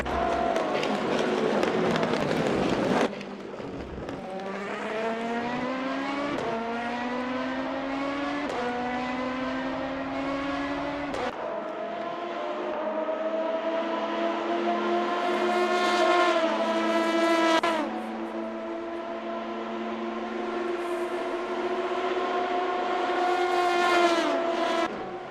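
Race cars lapping Le Mans in a racing video game, a continuous high engine whine that rises through the gears with repeated shift drops, loud and close throughout with no voices.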